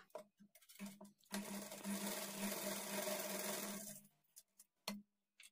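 A sewing machine stitches blouse lining to the main fabric in one fast, steady whirring run of about three seconds, framed by quiet handling clicks and fabric shuffles before and after.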